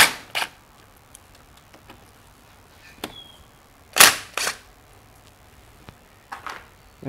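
Sockets or wrench clicks and sharp metallic taps while loosening bolts on a GY6 scooter engine's automatic cam chain tensioner, several isolated knocks spread out with quiet gaps, close and fairly loud.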